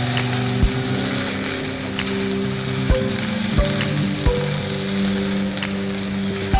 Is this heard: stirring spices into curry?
yes